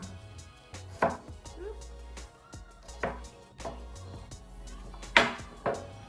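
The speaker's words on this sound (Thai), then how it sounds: "ตัดบักแตงก่อนนะคะ" A knife chops cucumber on a board in a home kitchen, a series of distinct sharp thuds at an uneven pace, close and clear with a faint low hum beneath.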